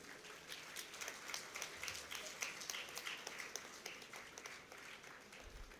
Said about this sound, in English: Let us all come together in a resounding round of applause to welcome our chief guest of the day.